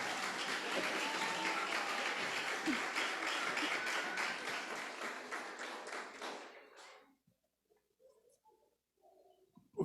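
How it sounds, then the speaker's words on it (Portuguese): Church congregation applauding its actors at a Sunday service: loud, dense clapping for about seven seconds that fades out, followed by quiet room sound with faint scattered noises. "Dê a salva de palmas aos meus atores aí."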